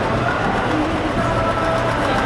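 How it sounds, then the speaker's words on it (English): A small kids' ride train rolls past in Shanghai with a continuous rumbling, rattling clatter, close and steady throughout. "I'm about to get run over by a train."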